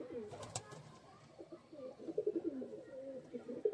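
Several desi pigeons coo in soft, rolling, throaty phrases that grow busier toward the end, with a sharp knock early on.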